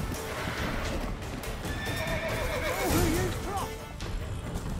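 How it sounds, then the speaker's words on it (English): A horse in The Witcher 3 video game whinnies loudly over the steady clip-clop of hooves, with game sounds and a voice talking underneath. "Get on the horse"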